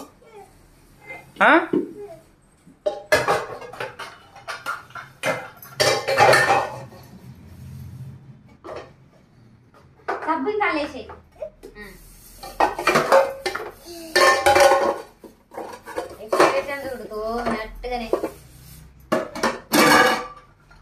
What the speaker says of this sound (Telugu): బోల్ కడిగినాక కడగాలి సింకు.